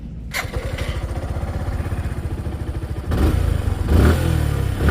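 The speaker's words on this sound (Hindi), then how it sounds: "चलते हैं इन दोनों का एग्जॉस्ट नोट सुनते हैं और सुनाते हैं" Exhaust note of a 2024 Bajaj Pulsar N160 or Suzuki Gixxer 155 motorcycle: loud, close steady idle thump that rises into a heavier, rougher rev after about three seconds, with no talk.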